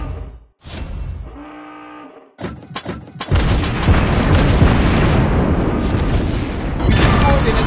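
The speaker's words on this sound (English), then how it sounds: "We destroyed an enemy ship." A heavy explosion as an enemy ship is destroyed in World of Warships Blitz, fired on by the Italian cruiser Raimondo Montecuccoli: a few booms, then a long, loud, rumbling roar that fills the rest of the scene, with a brief voice line earlier.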